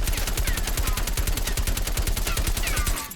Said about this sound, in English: this is just purely the gun by itself firing